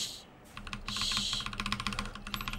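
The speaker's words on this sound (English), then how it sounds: "You can hear my keyboard, right?" Rapid computer keyboard typing during a gaming stream, a dense run of crisp clicks that starts sparse and quickens into a steady patter, close to the microphone with no voices.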